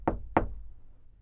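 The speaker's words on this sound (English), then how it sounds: "But soon afterwards, someone knocked at my door." Two sharp, hollow knocks on a wooden door, close and loud, spaced about a third of a second apart, as an audiobook sound effect.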